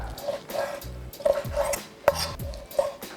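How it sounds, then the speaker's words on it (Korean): A knife chops cleaned webfoot octopus into bite-sized pieces on a board, a run of close, uneven thuds and taps with short pauses, no voices. "그리고 먹기 좋은 크기로 썰어 주십니다"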